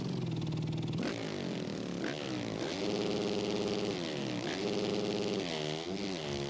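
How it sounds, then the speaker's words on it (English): A motorcycle engine in the video game MX vs ATV All Out revs repeatedly, its pitch climbing and dropping in several surges over a steady, loud drone. "listen to the engine rev."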